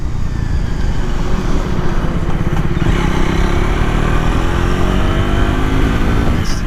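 A Triumph Thruxton 400 motorcycle cruising on a highway produces a loud, continuous engine drone mixed with heavy wind rush, holding steady throughout with slight pitch shifts.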